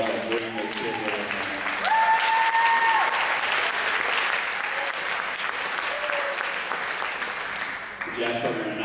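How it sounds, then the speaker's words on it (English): An audience at a high school jazz band concert applauds the band directors, sustained clapping with cheers and a few voices rising over it, continuing throughout before easing near the end. "let's give Mr. Bishop and Mr. Bassett both a round of applause."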